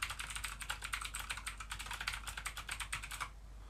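Fast, continuous clacking comes from a Motospeed Inflictor CK104 mechanical keyboard with blue switches, crisp close keystrokes in a rapid rhythm that stop abruptly near the end.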